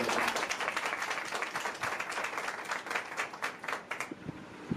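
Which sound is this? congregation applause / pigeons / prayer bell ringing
congregation applause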